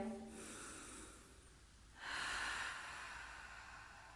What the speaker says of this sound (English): Cleansing breath.